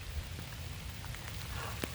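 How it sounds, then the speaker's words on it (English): Light rain drizzles outdoors on a cold, cloudy Halloween day, a soft continuous patter with scattered faint drops close by. "It's really starting to rain."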